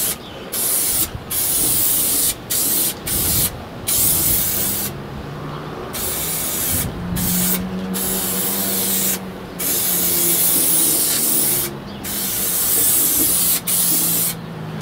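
Carpet adhesive sprayed from a can inside a Vauxhall Vivaro van during a self-build carpet fitting: a string of loud, close hissing bursts of varied length, separated by short pauses, with a low background hum and no talking.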